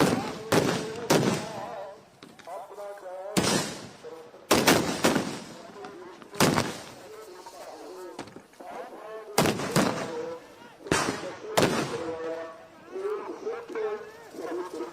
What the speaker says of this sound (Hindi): पुलिस ने किसानों पर आंसू गैस के गोले छोड़े हैं।